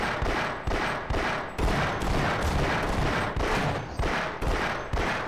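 Rapid, repeated loud gunfire bursts in the Half-Life video game, close and dense with regular blasts roughly every half second over a constant rumble.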